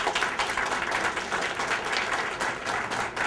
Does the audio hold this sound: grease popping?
no